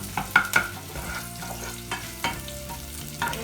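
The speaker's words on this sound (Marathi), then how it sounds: "मिश्रण आता हे चांगलं परतून घ्यायचंय, करपवायचं नाहीये जास्त, आणि आपण स्लो फ्लेम ठेवायची आहे।" A kadhi spice mixture sautéed on a slow flame in a pan, with a few scraping stirs and soft sizzling, quiet and close, without any talking.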